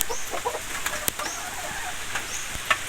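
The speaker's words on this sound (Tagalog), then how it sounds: "Native chicken." Native chickens clucking softly near a nest of freshly laid eggs on a small farm, brief scattered clucks and faint calls over a quiet outdoor background.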